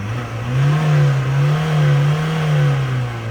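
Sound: Ford Ranger engine revving

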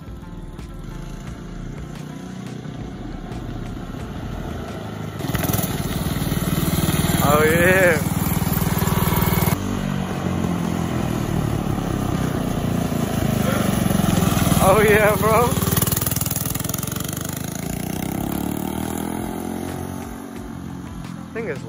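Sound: go-kart engine running with rubber band tires

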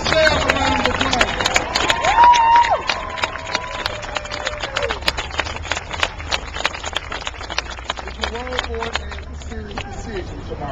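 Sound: crowd applause at a rally

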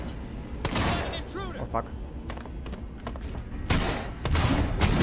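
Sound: gunfire in the video game Alien Isolation

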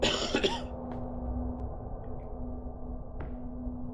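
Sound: character coughing in a video game

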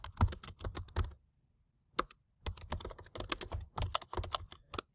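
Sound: typing a subject line on a computer keyboard

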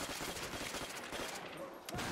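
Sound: gunfire in Call of Duty World at War zombie mode, video game

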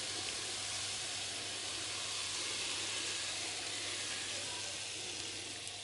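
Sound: teriyaki sauce poured into a sizzling stir-fry pan

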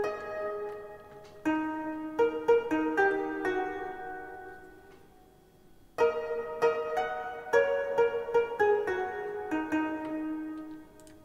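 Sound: Korean gayageum

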